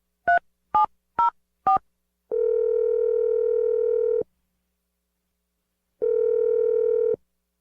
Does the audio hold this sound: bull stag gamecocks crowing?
no